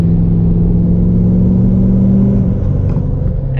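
A 2018 Ford F-250 with a 6.7L Powerstroke diesel, 500+ HP, on 37-inch tires revs at half throttle, giving a loud, close, deep rumbling drone that holds steady and then eases slightly near the end.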